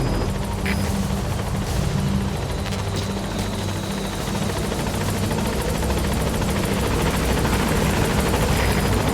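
Helicopter arriving at a landing zone in Metal Gear Solid 5: a loud, continuous rotor roar with a dense, choppy wash that holds steady and close throughout, with no talk.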